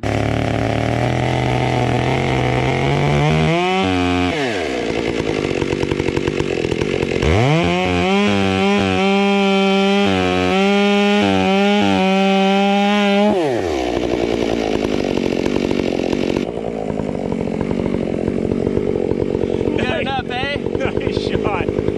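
A chainsaw plunge-cuts into wood, leaving a narrow strip of holding wood: loud bursts of high revving under load with a lower idle between, close by, while someone talks over parts of it.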